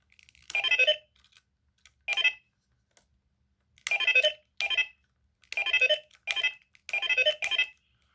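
A toy wrist communicator gives off several short bursts of electronic chirping and warbling tones, separated by brief silences.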